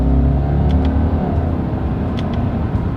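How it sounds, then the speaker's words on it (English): 2021 Subaru Legacy accelerating in first gear during a paddle-shift test, heard from inside the cabin as a continuous low engine rumble and drone, loud and steady. "All right, you guys, we're in first gear. Let's do our paddle shifter test here."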